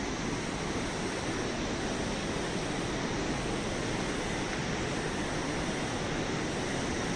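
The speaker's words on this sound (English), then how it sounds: "This river is Pushpavati, which is flowing inside the park" Pushpavati river flowing through a park in the Valley of Flowers, a steady even rush of water heard alone, moderately loud and unbroken.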